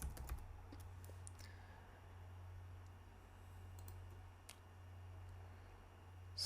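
Python code being typed on a computer keyboard, with soft, irregular key clicks over a steady low electrical hum, quiet and close, with no talking.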